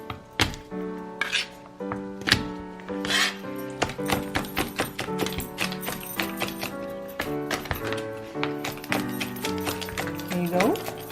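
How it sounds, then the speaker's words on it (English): A knife roughly chopping smashed ingredients on a board for a sausage and potato hash, with a quick irregular run of sharp close chops and taps, a voice speaking in the pauses. "I'm just gonna smash it like so, and then I'm gonna roughly chop them"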